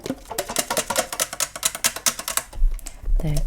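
Worn Selmer Mark VI saxophone keys clack in a rapid run of sharp clicks, close and dry, with a few heavier thumps near the end.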